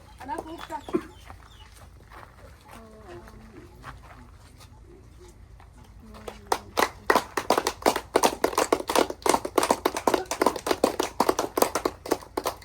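A small group claps hands loudly and rapidly at a home birthday gathering after watering a plant, the dense applause building from the middle to the end, with voices and some clucking chickens heard earlier.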